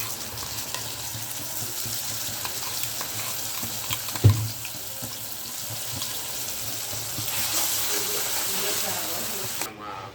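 Spinach thokku with ground paste and onions sautéing in a pan, a low steady hiss and sizzle with one sharp knock of a utensil midway, close and fairly quiet, ending in a brief louder rustle.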